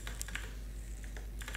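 Brief burst of quick, light keystrokes on a computer keyboard, close and fairly quiet, with no talking.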